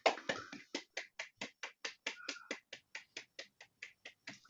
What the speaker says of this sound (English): real big round of applause from everybody.